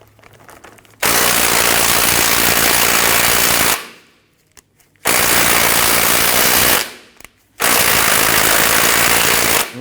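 A pneumatic impact wrench with a 21mm deep socket hammers loose the outer tie rod end nut on a 2006-2010 Hummer H3, three loud sustained rattling bursts separated by short pauses.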